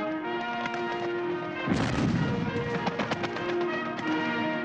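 Archival film sound of cannon fire at the Berlin Olympic Games opening ceremony, a heavy boom followed by a rapid series of sharp reports over a sustained orchestral band.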